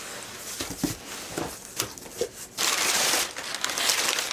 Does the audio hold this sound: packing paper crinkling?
yes